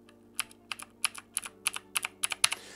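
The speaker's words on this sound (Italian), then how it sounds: "ogni volta che premerete un tasto sentirete click click click come adesso" Crisp, clicky keystrokes from a cheap mechanical gaming keyboard with clicky switches, tapped in a steady run, about a dozen sharp clicks close up, over a faint low hum.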